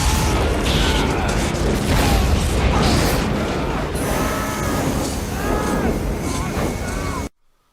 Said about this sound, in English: Geordi dumps and detonates the warp core